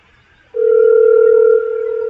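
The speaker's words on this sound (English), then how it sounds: "I don't know if y'all can hear, but I'm ringing him." A telephone ringback tone sounds after a brief quiet start: a steady, loud, continuous electronic tone with a slight drop in level toward the end, no talking.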